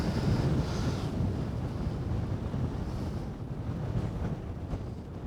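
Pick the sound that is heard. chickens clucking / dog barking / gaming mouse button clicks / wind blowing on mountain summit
wind blowing on mountain summit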